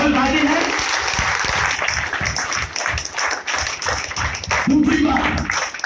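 A seminar audience claps in a loud, dense burst of applause, continuous and close, with a voice talking over it at the start and again near the end.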